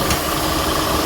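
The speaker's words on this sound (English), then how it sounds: "The compressor is spinning and you can see it start doing short cycling right there and stop." A car's engine idles steadily with the AC compressor spinning after a refrigerant recharge, a continuous close mechanical hum and whir that briefly short-cycles, with no voices.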